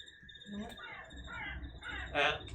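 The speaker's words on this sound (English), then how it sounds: "You hear the sounds of cawing of a raven once again." A large raven caws several times from high in a tree, harsh calls repeating with a louder burst near the end, over a steady low background murmur.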